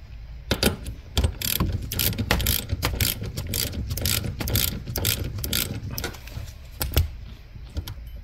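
Handbrake lever on a 2015 Mitsubishi Outlander ratcheting up through its notches, a steady run of close, sharp mechanical clicks from the pawl over a low background rumble, with no voices.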